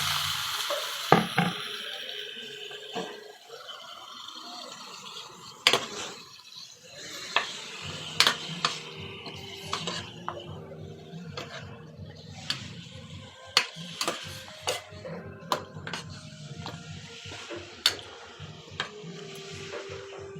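Chicken sizzles and crackles steadily in a hot pan with garlic and onion, with sharp clinks of a utensil against metal scattered throughout.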